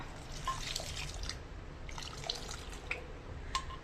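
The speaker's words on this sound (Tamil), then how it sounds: "இப்போ இன்னும் கொஞ்சம் கொஞ்சமாக பால் விட்டுக்கலாம்" Milk being poured into a pan while making creamy paal payasam, a soft steady liquid trickle with faint drips, close and quiet with no talking.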